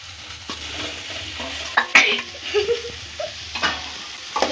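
Potatoes are tipped into a hot frying pan and stirred, with a soft sizzle under repeated clattering scrapes of a spoon against the pan, close and fairly loud.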